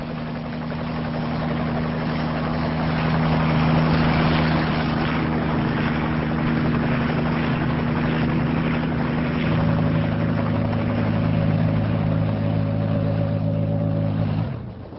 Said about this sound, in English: After a while, the helicopter leaves the ocean and heads inland.